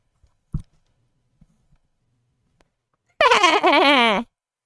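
A few faint clicks and taps, then one drawn-out, wavering cat meow rising loudly near the end before silence.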